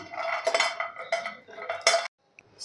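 Cashews lightly dry-roasting in a pan while making Govind ladu, with a spoon scraping and clinking against the metal in quick bursts, followed by a short pause and a faint final tap.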